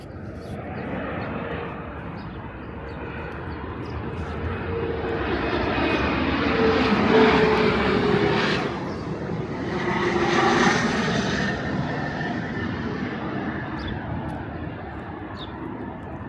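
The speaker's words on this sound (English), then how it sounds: "You got planes flying over you all day." Propeller airplanes pass low overhead above a Jackson Heights street in Queens, New York, a loud sustained engine roar that swells and fades twice over steady street noise, with a faint voice now and then.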